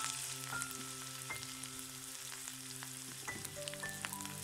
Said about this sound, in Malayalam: നമ്മുടെ എണ്ണ അവിടെ ചൂടായിട്ടുണ്ട് നമുക്കിനി അരിഞ്ഞു വെച്ച ഇഞ്ചി വെളുത്തുള്ളി പച്ചമുളകും ഇട്ട് കൊടുക്കാം